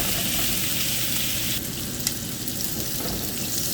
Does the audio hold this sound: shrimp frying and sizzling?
yes